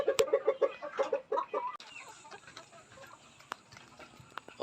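Upgraded asil and heritage chicken crossbreeds clucking in a quick burst of close, rhythmic calls, then fading into quieter ambient sounds with occasional sharp ticks.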